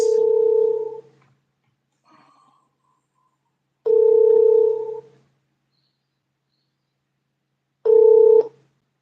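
A telephone call rings out on the line, three separate electronic ringback tones about four seconds apart, each lasting roughly a second, clear and close against silence between them.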